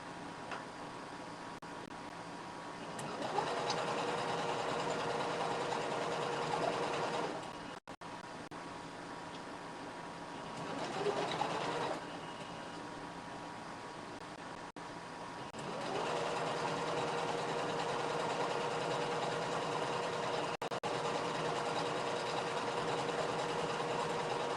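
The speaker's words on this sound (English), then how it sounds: "And we're going to sew this twice." A sewing machine stitches a ruffle in bursts, its motor whirring steadily for several seconds, pausing, running briefly again, then resuming a long even run, all close and without talk.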